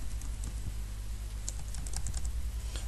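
A web address being typed on a computer keyboard, with a quick run of soft, close key clicks in an uneven rhythm over a low background hum and no talking.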